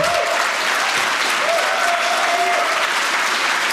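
Loud, sustained applause from a large audience at a political debate, dense steady clapping filling the whole clip.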